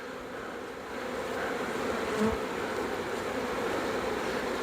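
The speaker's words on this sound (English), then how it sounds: "number of the bees there that are fanning, trying to bring the rest of them in" A honeybee swarm settling into a hive box, with bees fanning at the entrance: a dense, continuous buzzing drone that stays steady and fairly loud throughout, close by.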